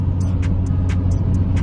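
A Lexus V6 car's exhaust rumbles steadily and close by, a low continuous drone with light higher clicks and rattles on top, without any clear revving.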